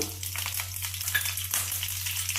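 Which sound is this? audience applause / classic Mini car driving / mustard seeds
mustard seeds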